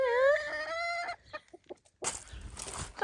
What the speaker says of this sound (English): Hey chickens? Yeah, you want worms, I know you.